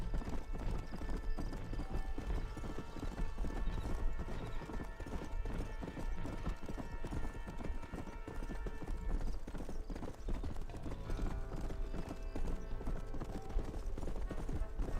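Horse hooves clip-clop steadily in the Western video game Red Dead Redemption, a continuous rhythmic trotting over a busy game soundtrack with an occasional whinny and brief voice.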